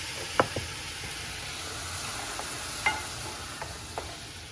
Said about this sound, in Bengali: আমি ওই ভাজা কড়াইতে আমি দিয়ে দিলাম চিকেনটা, আর এখানে মশলা একটু দিয়ে দিলাম